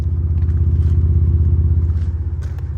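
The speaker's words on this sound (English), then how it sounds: "You can hear the burble of the exhaust there too." A Ford Ranger Raptor pickup with a V6 petrol engine idles with a deep, rhythmic exhaust burble, loud and close, pulsing evenly under faint rattles and ticks.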